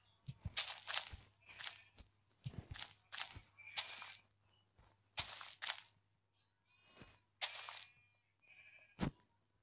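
Sheep in the video game Minecraft bleat repeatedly in short, uneven bursts, several overlapping and close by, with a few soft footstep-like thuds between them and no talking.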